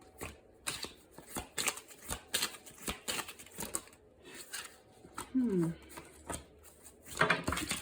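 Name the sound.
shuffling tarot cards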